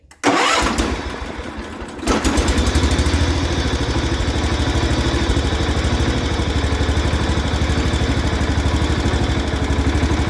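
A 1973 John Deere 140 H3 garden tractor, a barn find, cranks briefly, then its engine catches and roars into a loud, steady, close-up idle that carries on throughout.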